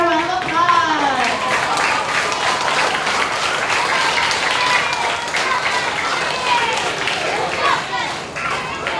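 Dense, loud applause from a school awards assembly for pre-K to grade 2 students, continuous clapping with children's voices and chatter mixed in throughout.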